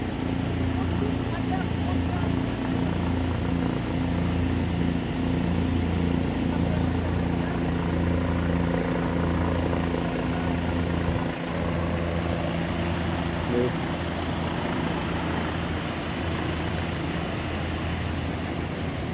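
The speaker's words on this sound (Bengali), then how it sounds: "দেখতে পাচ্ছ হেলিকপ্টার আসছে" A helicopter flying near the Kedarnath helipad produces a steady, distant rotor drone with low throbbing that holds at an even level throughout. A person talks faintly over it.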